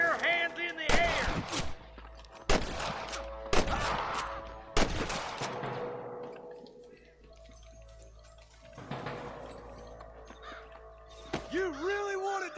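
Sniper gunfire in Red Dead Redemption on PS4: several sharp, loud cracks in quick succession over the first five seconds, a quieter stretch after, then another distant shot, with game voices talking in between.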